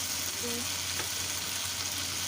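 Mutton Shinwari karahi sizzling in oil in a wok: a steady, close, continuous frying crackle with no talk over it.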